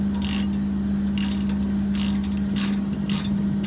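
A hand ratchet clicks in several quick bursts while tightening the outer tie rod on a 2005 Honda Accord, close and crisp over a steady background hum.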